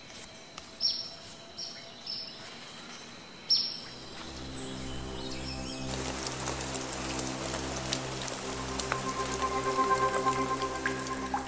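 A rain shower patters steadily on leaves and surfaces in a hummingbird habitat, a soft continuous hiss with scattered drips, while a few birds chirp faintly in the background.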